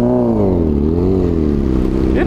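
A Honda PCX 160 scooter engine revving as the throttle is twisted, a close mid-pitched engine note rising and falling over about two seconds.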